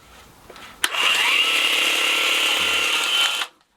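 A battery-powered detail sander in a small shed switches on with a sharp click and runs in a steady, loud, close whine for about two and a half seconds before cutting off.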